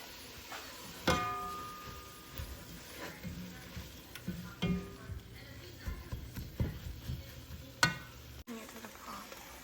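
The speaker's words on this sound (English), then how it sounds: "And I'm gonna get that stirred up." Garlic and herb seasoned lasagna sauce being stirred in a single pan, with soft scraping strokes and a light sizzle, punctuated by a few sharper utensil knocks against the pan.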